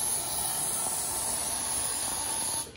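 Aerosol bug spray aimed at roaches indoors, a continuous loud hiss held steady for nearly three seconds before cutting off, close to the microphone.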